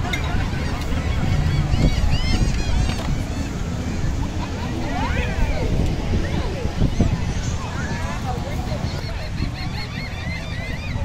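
Birds at Clearwater Beach in Florida keep up a noisy stream of honking, squawking calls over steady surf, with people talking nearby.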